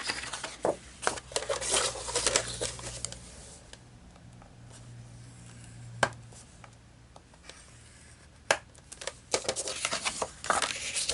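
Paper being cut and handled while making a pop-up album: scattered crisp snips, rustles and light taps at close range, irregular and fairly quiet, with a calmer stretch in the middle before the crinkling picks up again.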